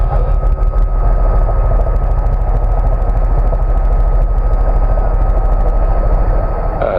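A helicopter powered by a Rolls-Royce turbine engine flies over Royal Gorge, Colorado, heard from inside the cabin as a loud, unbroken turbine whine and rotor roar that holds steady throughout. No speech is heard over it.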